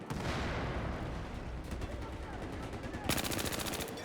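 Automatic gunfire from a low-recoil rifle in the video game Battlefield 4, loud and sustained throughout, with rapid repeated shots and a sharper, denser burst near the end.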